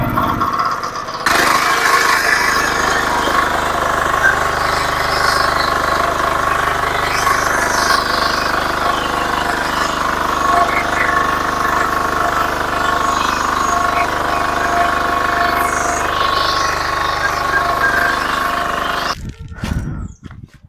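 A Balwan mini tractor engine runs steadily and loud while tilling soil in West Bengal, a continuous mid-pitched drone holding for about twenty seconds before cutting off abruptly near the end.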